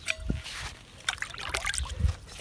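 Diluted fertilizer is poured from a small can onto the base of a strawberry plant. Short trickles and splashes of water come close by, with some light handling noise.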